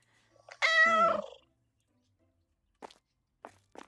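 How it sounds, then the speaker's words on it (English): A single loud, drawn-out cat meow up close in a video game, followed by silence and a couple of faint soft clicks. "That was a very loud meow."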